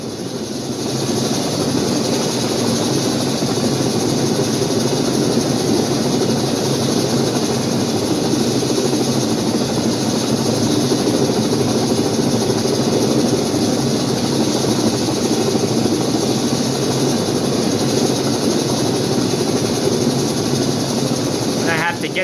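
HH-46 Sea Knight helicopter hovering over a ship's helipad in Flight Simulator X, a loud, steady rotor and turbine drone that holds unchanged throughout.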